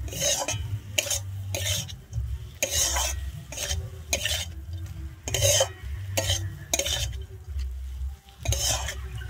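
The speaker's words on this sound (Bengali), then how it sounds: "দিয়ে আমি আবার একটু ভালো করে শাকের সঙ্গে মিশিয়ে নিচ্ছি" Red amaranth greens being mixed with raw mustard oil in a pan, a rhythmic series of scraping and stirring strokes with a spatula, about a dozen close, fairly loud sweeps over a soft sizzle, no talking.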